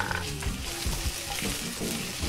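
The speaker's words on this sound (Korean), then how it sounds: "캐슈넛을 넣고 볶습니다." Cashew nuts and onion stir-frying in hot oil flavored with ginger and chili, a steady low sizzle with scraping stir sounds from a spatula, close and fairly quiet.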